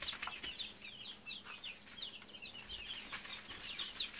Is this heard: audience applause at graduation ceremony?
no